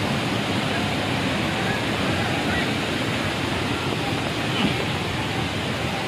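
Strong water flow at Kerle waterfall in monsoon conditions, a loud, dense, unbroken roar of rushing water heard up close.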